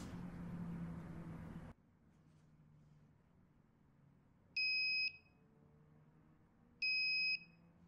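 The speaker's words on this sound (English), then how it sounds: "You throw it, you press a button, and it makes a beep." A homemade electronic lure device gives two short, piercing electronic beeps a couple of seconds apart, each about half a second long, after a burst of rustling handling noise and then near-silence.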